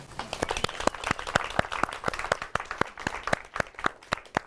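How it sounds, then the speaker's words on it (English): Rhythmic hand clapping from a small audience, a steady run of sharp claps lasting a few seconds with no talking. "How about a round of applause for Leanne?"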